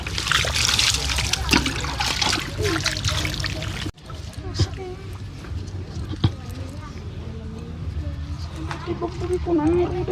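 Water pours and trickles while someone is rinsed during a bath, splashing close by for several seconds as people talk over it.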